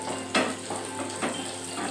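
Carrot frying in oil in a pan while cooking a mushroom chilli baby corn dish, a steady close sizzle with a few brief louder stirring crackles.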